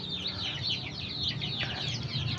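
A hen close by gives soft repeated clucks and short calls in a steady run over faint rural background noise.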